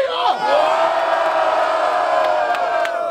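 Crowd at a hip hop battle final roars with cheers and shouts, a loud sustained wall of voices with whoops rising and falling throughout.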